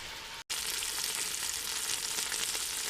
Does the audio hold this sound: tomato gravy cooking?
yes